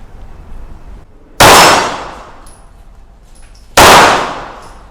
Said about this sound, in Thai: ยิงให้ดูกันเห็นเห็น